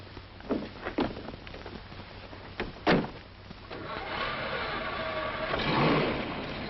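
A 1940s car starting up and pulling away, with a few sharp clunks and knocks like doors or the starter, then an engine that rises into a steady, building drone.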